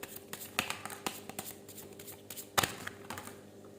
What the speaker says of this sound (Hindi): मैं एक बार शफल कर रही हूँ